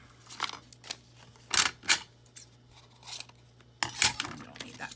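Scissors cutting paper for a paper sewing machine craft, several short crisp snips in uneven bursts, close and fairly quiet with a low steady hum beneath.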